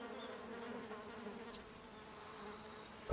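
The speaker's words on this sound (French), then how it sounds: "Ouais, déjà des mouches, bon, tu m'étonnes." Flies buzz continuously in The Witcher 2 video game, a steady faint insect drone with a brief louder thump at the very end.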